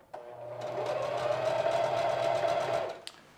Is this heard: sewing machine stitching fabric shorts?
yes